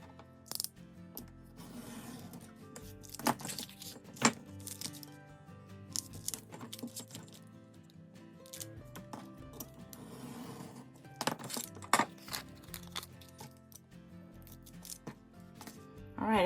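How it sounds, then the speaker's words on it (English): A craft knife cuts slivers off the sides of paper junk-mail envelopes along a ruler, making quiet, close scraping and ticking cuts with soft paper rustles and small taps, spread unevenly across a hushed room. "I'm going to use my little ruler and my craft knife to do that"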